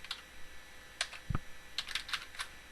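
Keys clack on a computer keyboard while a network router command is typed, light irregular taps in small clusters with one heavier thump, quiet and close with no talk.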